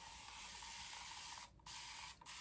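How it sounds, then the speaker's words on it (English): Steady, continuous hiss of a spray bottle misting aloe vera and rice water onto hair, briefly interrupted twice by short pauses before spraying resumes. "Alright, I'm spraying."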